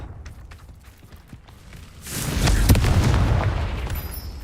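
Confringo fire spell explosion in the Hogwarts Legacy video game: a few faint clicks, then a loud, rumbling boom with a burst that swells and holds before fading.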